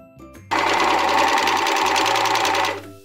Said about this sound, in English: what we're gonna do is just serge across these two ends at the shoulder